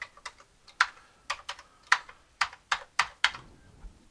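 Keys are typed on a computer keyboard as commands are entered, sharp close clicks landing in short irregular bursts with brief pauses between.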